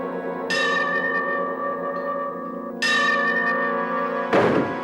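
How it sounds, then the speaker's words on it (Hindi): A bell rings in a horror drama: two clear metallic strikes about two seconds apart, each with a long shimmering decay, followed by a dull thud near the end. "और घंटा बजता रहा।"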